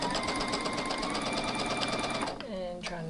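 A sewing machine stitches along a fabric seam with a fast, even mechanical whirr and needle chatter, running steadily then slowing to a stop near the end, while someone talks over it.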